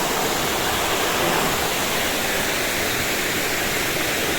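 Loud, unbroken rush of falling water from a waterfall, an even hiss and roar with no voices over it.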